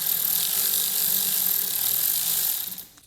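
A ratchet with a 7mm socket turning steadily on an intake clamp of an Audi B9 S4 3.0L V6 TFSI, giving a continuous close, fast clicking that stops abruptly after about two and a half seconds.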